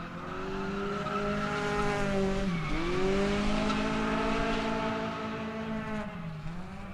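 Drift car at an Indianapolis street league event, engine holding high revs with steady loud tire squeal through a slide, pitch dipping and recovering as the driver kicks the clutch, continuous and close.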